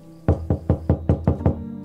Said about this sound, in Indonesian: Namun ketukan kedua kalinya cukup kencang, sehingga membuat kaca rumahnya bergetar.